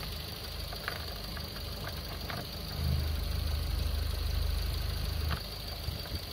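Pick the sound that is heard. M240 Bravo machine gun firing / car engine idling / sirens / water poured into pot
car engine idling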